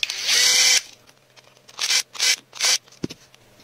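An electric screwdriver removes Phillips screws from the plastic casing of a cheap headlamp: one long whirring burst, then three shorter buzzing runs and a small knock, all close and loud.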